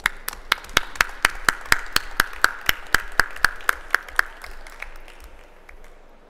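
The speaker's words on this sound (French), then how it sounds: "Et bravo, on vous applaudit." Brisk applause for a prize winner at an environmental innovation awards ceremony: about twenty sharp, evenly spaced claps ring out close and loud, then fade into a faint scatter of hands.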